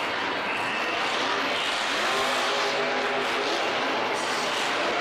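A Monster Jam monster truck engine roars continuously at an arena event in New Orleans, a loud sustained drone with revving swells and crowd noise blended in, and no talk over it.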